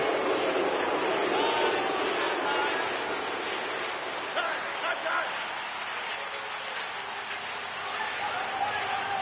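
Broad murmuring crowd noise fills a New York Rangers versus Washington Capitals NHL hockey arena, a steady restless din with faint scattered shouts, heard at a distance throughout.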